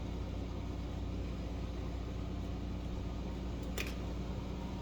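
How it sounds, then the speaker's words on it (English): A coverstitch sewing machine runs steadily across the top of a fabric piece for a legging pocket, giving a continuous even motor hum with a dense mechanical whir, close and unbroken, with no talking. "So I'm going to go cover stitch across the top"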